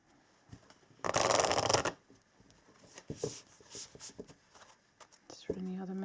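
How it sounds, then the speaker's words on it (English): A quick, crisp riffle of cards being shuffled, followed by quieter tapping and handling sounds nearby. "I want to shuffle these cards as well."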